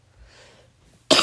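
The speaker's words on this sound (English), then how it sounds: "I'm sorry about the coughs." A single sharp human cough bursts out loudly at the very end after a quiet moment, close to the microphone.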